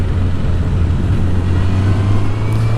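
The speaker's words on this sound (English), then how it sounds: "We're gonna go ahead and get on the freeway real quick and do an acceleration for you." Honda CBR1000RR motorcycle accelerating on a freeway, a steady loud engine roar with a strong low drone and wind rush throughout, no talking.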